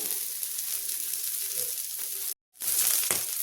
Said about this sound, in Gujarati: સેલો ફ્રાય કરવી હોય તો સેલો ફ્રાય પણ કરી શકાય છે અને આપણે આવી રીતે શેકી લઈશું ઓછા તેલમાં